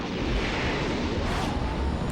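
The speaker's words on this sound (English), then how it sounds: "being forced to stand in the vicinity of the incredibly loud cannon without any ear protection" Loud cannon fire in the anime film Memories: a sustained, dense, booming rumble that fills the whole clip at close range with no clear gaps, heavy and rolling rather than distinct separate shots.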